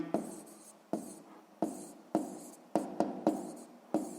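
A pen scratches across a notebook during a sixth-grade maths lesson, writing in short bursts of about seven or eight strokes, each starting sharply and trailing off, quiet and close with no voices.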